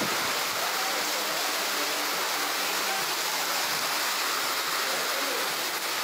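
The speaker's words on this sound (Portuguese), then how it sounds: "Muita chuva, muita chuva." Heavy rain pours steadily in a rural yard in Rio Grande do Norte, Brazil, with water rushing off a roof spout, a dense continuous hiss that stays loud and unbroken throughout.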